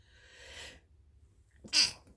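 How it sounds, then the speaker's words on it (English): A single sharp sneeze near the mic, preceded by a soft breathy inhale, then quiet. "he makes me sneeze"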